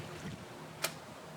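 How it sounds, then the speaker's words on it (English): A replica trout fishing lure drops into water, giving one short sharp splash partway through against a quiet outdoor background. "Wait for the splash down to clear."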